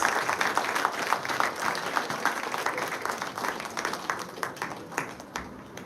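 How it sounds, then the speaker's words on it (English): A large audience at a school debate competition claps in sustained applause, dense and steady for the whole stretch with no talk over it. "Please welcome her with a huge round of applause."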